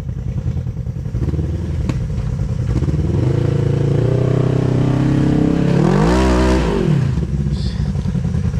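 An off-road vehicle's engine revs on a rocky trail as a tire struggles to climb over a rock, a loud, close drone that swells to a strained rising-and-falling rev near the end before settling.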